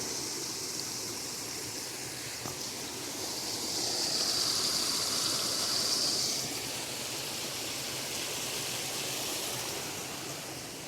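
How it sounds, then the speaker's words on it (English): Stream flowing along the Pinhoti Trail, a steady rushing burble of water heard alone, with a slight swell in the middle of the clip. "and listen to this beautiful water."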